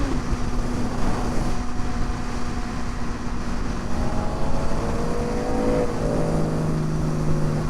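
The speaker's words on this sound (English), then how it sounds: "I love seeing the homie's car fly by" On a Miami street, a car speeds past at high revs, its engine note rising and sweeping in pitch over a loud continuous roar of wind and traffic, with a second revving pass near the end.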